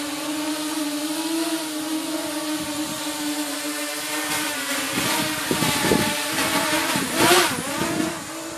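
A custom hexacopter drone flying on a test flight in wind, its motors making a continuous buzzing whine that wavers in pitch and swells louder near the end, heard from a moderate distance.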